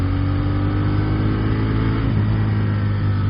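A 2016 Moto Guzzi Griso V-twin with stock exhaust revs steadily under load in second gear, a loud, close, continuous engine drone with no voices.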